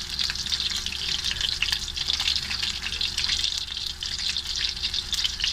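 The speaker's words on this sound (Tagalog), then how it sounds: "So ito nga po guys, piniprito po na natin ang talong." Eggplant frying in a pan, a steady close sizzle with bright crackling spatters running evenly throughout, no voices.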